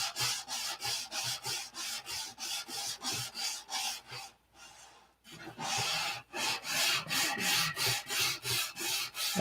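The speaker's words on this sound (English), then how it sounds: "Best to sand." Hand sanding of model aircraft cap strip and trailing edge sheeting, a close rhythmic scratchy rasp of regular back-and-forth strokes, pausing briefly midway before resuming at the same steady pace.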